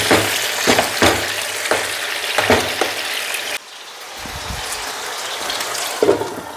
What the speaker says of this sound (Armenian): Փակեմ, թող տապակվի։